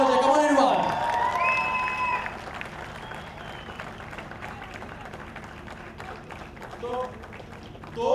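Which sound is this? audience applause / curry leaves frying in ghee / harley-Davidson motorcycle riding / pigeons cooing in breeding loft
audience applause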